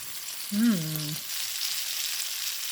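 Cheese frying in a Diamotech nonstick pan gives a soft, even sizzle. A brief hummed vocal sound rises over it early on, then the sizzle continues alone.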